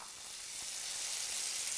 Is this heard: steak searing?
yes